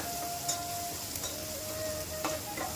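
Spices frying in oil while being stirred make a soft, steady sizzle with light scraping and a few brief taps, fairly quiet and without talk.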